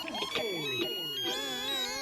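A phone ringtone plays a steady electronic melody with sustained tones, moderately loud and close, with no talking over it.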